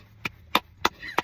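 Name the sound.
knocking imitating footsteps on stairs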